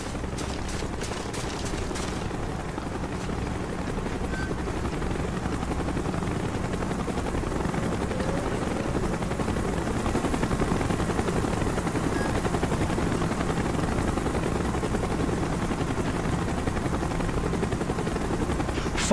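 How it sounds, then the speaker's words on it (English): A helicopter in the Call of Duty: Black Ops 4 video game drones steadily throughout, a loud continuous rotor rumble that swells slightly midway, with no talking over it. "Chopper's inbound! Move it!"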